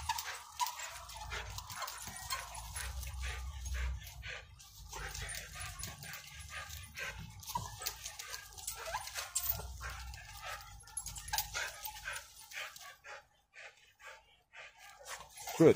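A dog whimpers, yips and barks repeatedly at close range, the whines rising and falling over a low rumble while a person talks to it now and then.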